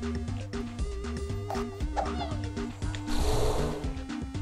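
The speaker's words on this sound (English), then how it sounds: "Kill the cat!" A cartoonish cat meows in the BattleBlock Theater video game, small yowls layered over busy game music with a brief burst of noise near the end.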